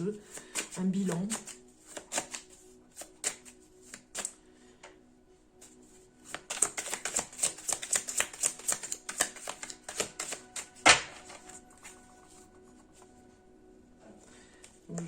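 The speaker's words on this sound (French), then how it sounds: "je vais quand même mélanger parce que je vois que c'est les mêmes cartes que j'ai eues tout à l'heure" Tarot cards being shuffled by hand, with bursts of quick papery riffling and tapping, loudest in the middle, alongside a voice talking at times.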